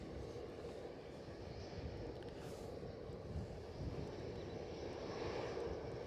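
An airliner at Edinburgh airport gives a steady, broad jet engine roar that holds at an even level for the whole stretch, with no talk over it.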